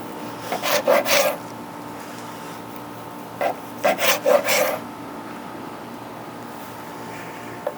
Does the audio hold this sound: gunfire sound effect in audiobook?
no